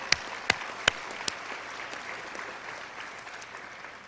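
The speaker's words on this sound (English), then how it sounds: "give yourselves a nice round of applause" A few sharp claps at the start, then a soft, sustained patter of scattered applause from a conference audience, fairly quiet and settling down.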